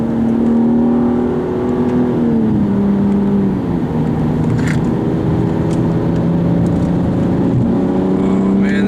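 A 2015 BMW M235i engine drones loudly at speed, its pitch dipping briefly as it shifts before settling into a steady, powerful hum.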